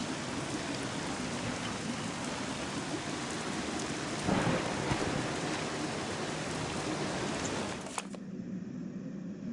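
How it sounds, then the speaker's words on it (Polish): Steady rain in the video game Submerged, a dense continuous hiss of falling drops with low rumbling like distant thunder; a brief louder swell midway, then the downpour cuts abruptly to a quieter, thinner patter near the end. "Znowu pada, ludzie, zlitujcie się."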